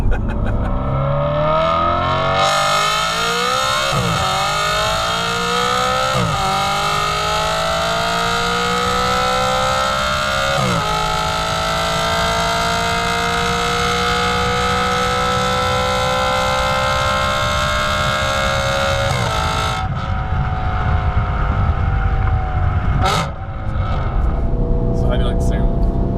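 An Audi RS5 fitted with AWE non-resonated downpipes and 2.5-inch piping revs repeatedly, its exhaust rising in long loud climbs with sharp drops between, ending in a final blip.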